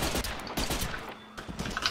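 Gunfire in the fast-paced shooter Mortyr IV: Operation Thunderstorm, with rapid bursts of automatic shots cracking out in a dense fusillade over about two seconds.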